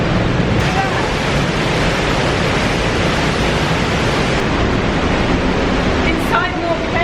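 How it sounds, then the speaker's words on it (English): Roaring glacier-fed waterfall inside a rock tunnel in Lauterbrunnen, Switzerland: a loud, constant rushing wash of water with wind buffeting the microphone, unbroken for the full stretch. "We're literally in the middle of a waterfall going up a tunnel."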